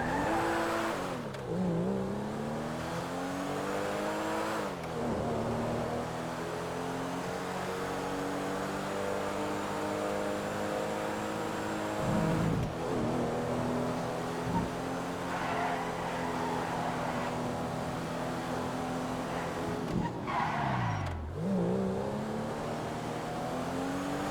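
Voltic sports car in a video game revving hard and driving continuously up close, engine pitch sweeping up and down through gear changes, with several sharp dips where the tires skid and squeal.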